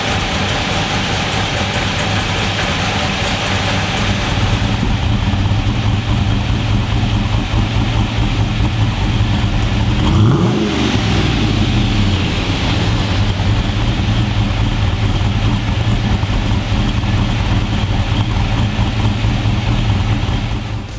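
A cathedral-headed LS V8 with a 233/233 square-pattern camshaft idles with a loud, steady, lumpy rumble, blipping the throttle briefly in the middle before settling back to idle.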